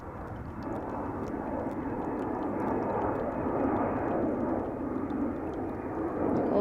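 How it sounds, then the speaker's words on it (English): A white airliner taxiing at Amsterdam Schiphol Airport, with a steady, loud jet engine rumble and whine that holds constant throughout and swells slightly near the end, with no voices over it. "That's the airplane that is taxiing."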